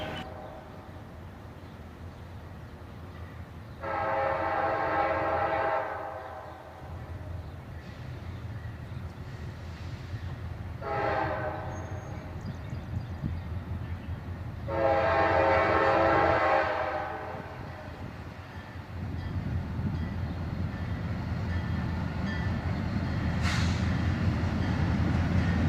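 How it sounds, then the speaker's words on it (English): A southbound autorack freight train pulled by two locomotives rumbles past, with three blasts of its horn at intervals over a steady rolling roar that swells toward the end. "this first train to appear, a southbound autorack train with 2 locomotives"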